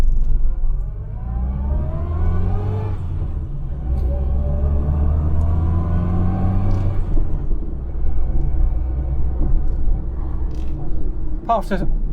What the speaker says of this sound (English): Apart from the catastrophic noise from the suspension, which I'm ignoring for the moment